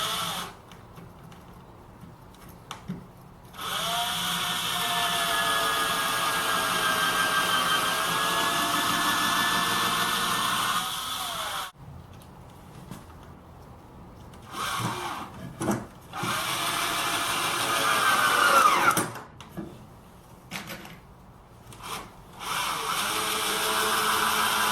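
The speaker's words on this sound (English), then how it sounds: "I'm going to drill some pilot holes first of all" A power drill runs in several long bursts with brief pauses between, its whine shifting in pitch as it bores pilot holes into wood, close and loud.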